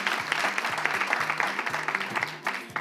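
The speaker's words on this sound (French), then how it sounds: "Applaudissez d'abord." Audience clapping on a French entertainment show with guest Dimi Art, fairly quiet and uneven, with individual claps standing out against a steady low tonal hum running underneath.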